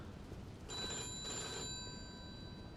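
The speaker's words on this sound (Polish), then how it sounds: "Po raz kolejny tutaj odbieramy telefon." A telephone rings in the video game Mafia II, a single bright electronic ring burst, fairly faint over a steady background hiss.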